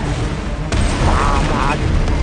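Artillery bombardment in a war film, a sharp blast at about 0.7 seconds followed by a dense rumbling roar of shelling and debris, loud and continuous throughout.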